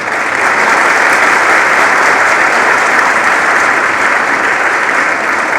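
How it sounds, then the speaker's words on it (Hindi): Loud, sustained applause from an audience at a gurukul gathering, an even roar of many hands clapping close by for several seconds without a break. "इतनी तालियों से काम नहीं चलेगा।"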